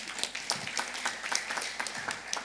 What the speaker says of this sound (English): Please welcome Esther with a round of applause.